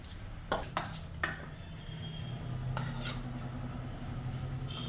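Sandwich stuffing mixed with chaat masala in a bowl. A spoon strikes and scrapes against the bowl in a few sharp clinks, followed by steady soft stirring and scraping, close and alone.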